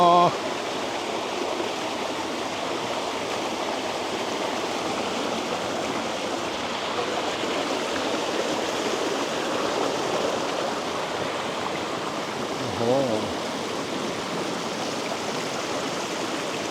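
A waterfall and stream at the Chanta Then waterfall make a continuous broad rushing roar that stays steady and fairly loud throughout, with a brief soft voice near the end.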